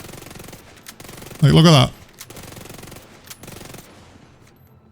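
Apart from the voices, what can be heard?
Vector submachine gun firing in Division 2 video game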